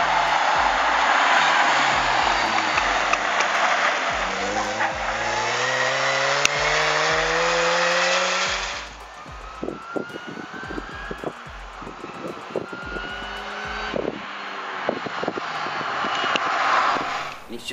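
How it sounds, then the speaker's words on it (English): A supercharged 2006 R53 Mini Cooper S engine gives off a loud, rising whine with climbing harmonic tones that swell through several revs. It quietens into lighter, choppier engine noise with clicks and bursts partway through. "We'll stick a clip in terms of the supercharger whine on this particular."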